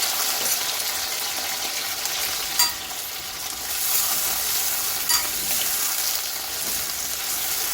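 Steady hiss and sizzle of potatoes frying in a pan of oil, close and constant, with a couple of faint clinks as they are stirred.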